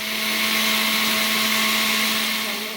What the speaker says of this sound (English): I'm going to have to do it like 3 times because the blender is not, very big.